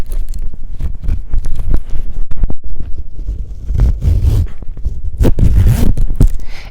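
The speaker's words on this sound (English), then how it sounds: "when I go to zip it, I can't zip it super easy around this part here" A zipper is pulled around a Galen Leather case in close, raspy strokes that repeat unevenly, several short scratchy pulls with brief pauses between them.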